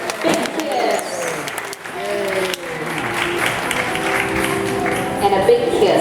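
An audience at a dolphin show claps as the dolphin, fitted with a prosthetic tail, swims back to its trainer. The steady applause runs under a trainer's amplified voice throughout.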